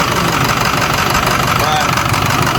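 A Ford 6.0 Powerstroke diesel with failed injectors idles with a misfire, a close, loud, rough engine rumble holding steady over a few seconds.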